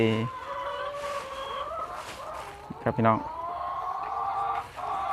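Egg-laying hens on a farm cluck in short bursts amid a busy coop, with someone talking loudly over them and a brief rooster-like call in the middle.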